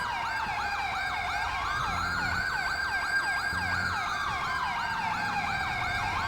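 A wailing ambulance siren in GTA 5 sweeps up and down in fast repeating cycles, loud and steady over a low engine rumble, with a second siren layered in.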